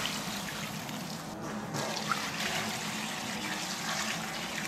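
Water is poured into a pot of Palakkad-style winter melon chicken curry, a soft, continuous splashing stream that runs steadily without pause and with no voices.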